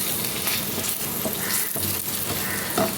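Spices for an achari dal tadka, fenugreek seeds and chili powder, sizzle in hot oil with a steady, close crackling hiss that runs unbroken throughout.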